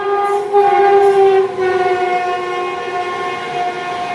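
Fast train roaring through a Kolkata local railway station, a loud sustained rumble with a strong tonal horn-like whine that fades slightly toward the end.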